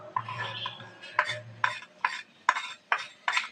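Spoon scraping and clinking in a pan while spiced eggplant curry is stirred, with about seven sharp rhythmic strokes close by after a softer start.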